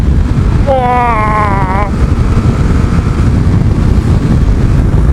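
A Yamaha XJ 900 F motorcycle pulls hard past 6,000 RPM, its engine note rising in a steady climb under heavy, constant wind roar, with a brief excited exclamation from the rider.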